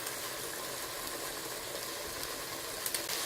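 Onions sizzle steadily in hot oil in a pan over high heat alongside meat for a beef-cheek bourguignon, a continuous close crackling hiss with a few sharper pops near the end.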